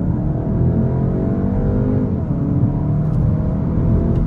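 The 2.0 TSI engine of a 245 hp Škoda Octavia RS roars from inside the cabin during a hard launch, a steady, deep rising drone with no speech.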